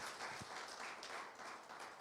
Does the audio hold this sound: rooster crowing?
no